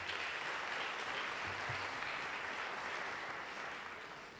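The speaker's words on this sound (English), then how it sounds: "I'm going to borrow your applause because it does not belong to me." An audience at an NYPD security briefing applauds with steady, dense clapping that fills the room and fades slightly toward the end, with no voices over it.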